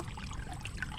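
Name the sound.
water trickling out through a hole in a rice paddy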